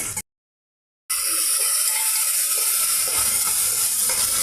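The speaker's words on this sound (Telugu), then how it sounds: "ఒక ఆయిల్తో ఇవన్నీ ఫ్రై అవుతున్నాయండి." Pulao masala and onion pieces fry in oil with a loud, dense, continuous sizzle close up, after a brief silent gap near the start.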